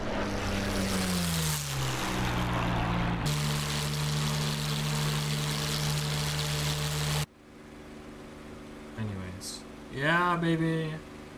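WW2 propeller plane in DCS World just after takeoff, its engine droning loud and steady with a low harmonic hum, then dropping to a quieter drone as a voice talks briefly over it.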